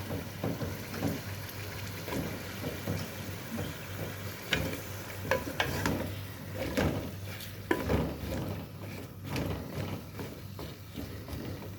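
Plantain pieces dropped into a pan of hilsa fish curry, with a faint, soft sizzle and scattered clicks and scrapes of stirring throughout.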